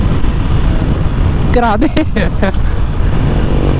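Honda CB650R inline-four motorcycle engine droning steadily and close throughout, with a brief rev swell in the middle while a man exclaims over it.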